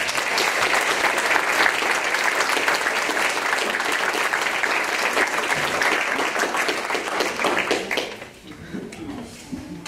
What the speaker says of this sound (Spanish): Démosle un aplauso a nuestra madre.